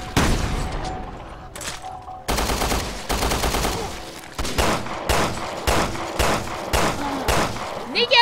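Rapid bursts of gunfire from Resident Evil: Revelations 2, loud and close, firing in repeated volleys with short gaps between them and no talking over the shots.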